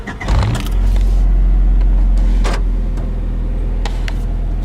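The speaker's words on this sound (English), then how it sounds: "I guess this car has a clutch bypass, so just have to crank it up and just make sure it's in neutral." A Honda Civic with a manual gearbox in neutral cranks briefly and catches, settling into a loud, steady idle close by, with a few light clinks and rattles over the running engine.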